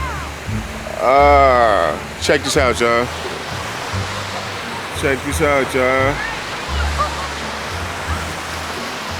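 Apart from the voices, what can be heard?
river flowing along the River Walk in Reno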